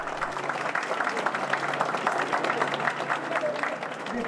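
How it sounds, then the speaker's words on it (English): Onlookers at the Kyoto Gion festival applaud as a Yamahoko float is stood upright, a steady mass of clapping spread across a crowd, with some voices mixed in. "as the pole stands up, applause breaks out from the onlookers"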